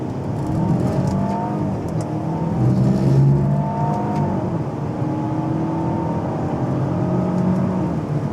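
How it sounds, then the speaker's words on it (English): 2016 Audi A5 coupe accelerating hard from a standstill to 60 with manual gear shifts, heard from inside, the engine note climbing and dropping at each shift in a steady run of pulls. "let's see how fast it will reach from 0 to 60 if I shift gears manually"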